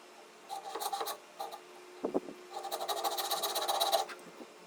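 A jeweler's piercing saw cuts through metal in short rasping bursts, then a longer steady run of fast back-and-forth strokes, close and fairly quiet with no talking.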